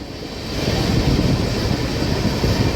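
The Cheran Express, an ICF-coach train running Coimbatore to Chennai Central, passes near Basin Bridge Junction with a loud, continuous rushing rumble that swells after a moment and holds steady.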